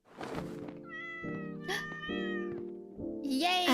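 A cat meows loudly and close by in a long, drawn-out, wavering call, followed by a second rising meow near the end, with no talking.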